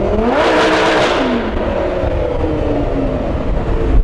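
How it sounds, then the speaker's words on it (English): A Lamborghini Huracan with an aftermarket Ryft exhaust revs loudly, pitch climbing then easing off and swelling again, a raspy exhaust roar filling the whole stretch with no talking. "That Ryft exhaust that's like the best part of this car"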